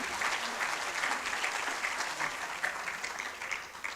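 An audience at a tenth-anniversary research conference ceremony breaks into steady, sustained applause. Many hands clap densely and evenly for the full stretch without pause, with no voices rising above it.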